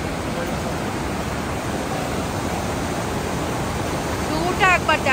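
The Parvati River near Manikaran and Kasol rushes in a steady, loud, broadband roar of flowing water, with a voice briefly audible near the end.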